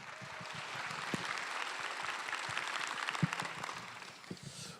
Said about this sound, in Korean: 우리 큰 박수로 함께 나가도록 하겠습니다